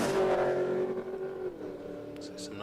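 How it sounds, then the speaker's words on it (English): Drag racing cars running side by side at Willowbank Raceway, a loud engine roar that fades as the cars pull away, with an announcer talking over it. "So some nice side-by-side racing now."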